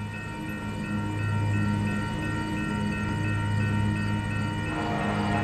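A westbound Union Pacific train passes in Montour, Iowa, with a steady low diesel rumble and droning hum, continuous and fairly close, with no voices.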